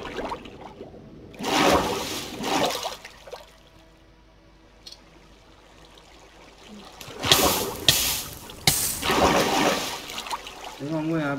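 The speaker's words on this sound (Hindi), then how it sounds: "देखते हैं ये पानी सही जाएगा।" Water flowing in the video game Minecraft, heard as two loud rushing, splashing bursts separated by a quieter stretch.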